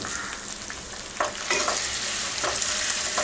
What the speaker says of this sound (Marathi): परतून घेऊया हे सगळं.